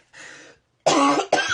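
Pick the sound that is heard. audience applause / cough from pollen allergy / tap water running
cough from pollen allergy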